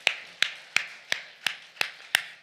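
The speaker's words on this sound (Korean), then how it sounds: "박수 박수 박수" Church congregation clapping during a Sunday worship service, seven sharp, evenly spaced claps in a steady beat about three per second, close and clear with no talk.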